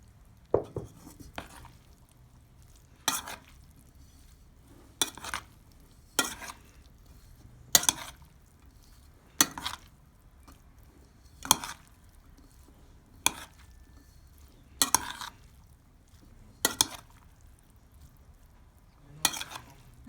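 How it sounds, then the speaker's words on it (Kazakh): Sugar water is stirred into cooked rice for homemade sushi rolls, with about a dozen sharp, evenly spaced scraping and clinking strokes over quiet background and no talking. "дайын болған суымызды күрішіміздің үстіне құйып, жақсылап араластырып алатын боламыз"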